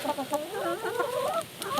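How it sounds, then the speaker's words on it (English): Chickens clucking close by, a run of warbling, rising clucks overlapping one another with no talking. "So let's say you got some chickens."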